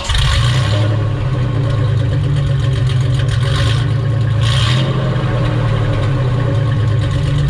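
Chevy truck engine idling steadily with a new, slightly louder exhaust, a continuous deep rumble close up with no rattle and no talking.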